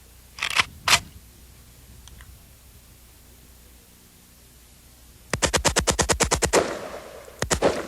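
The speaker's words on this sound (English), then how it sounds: "This is the fully automatic firearm. It's an AK-47." An AK-47 on full automatic fires two single shots, then pauses before a rapid burst of about a dozen evenly spaced, loud, close reports and a short final burst, with no talking.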